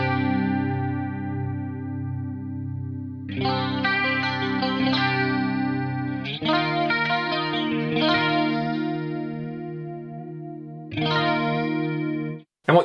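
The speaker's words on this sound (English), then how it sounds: "If we set this, say, to 90 degrees, let's do that. The chorus is going to sound markedly different." Guitar played through the chorus effect of a BOSS MD-500 pedal set to a 90 degree initial phase, shimmering sustained chords and notes with a wide modulated sheen, several strums ringing out in sequence with no voice.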